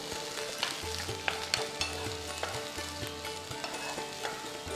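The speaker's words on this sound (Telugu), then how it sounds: "ఫస్ట్ మనం ఉల్లిపాయల్ని కొంచెం కుక్ చేయాలన్నమాట." Onions cooking in a pan with tamarind pieces for tomato mint chutney, a soft steady sizzle and frying crackle throughout, with occasional faint clicks of stirring and a low background hum.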